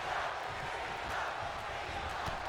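Steady arena crowd noise from a WWE wrestling video game, a dense, continuous roar of cheering holding at an even level throughout with no voices standing out.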